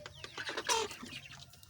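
Young broiler chickens, about sixty days old, cluck and chirp in a short run of close, fairly quiet calls, with one louder burst near the middle and a faint farmyard background.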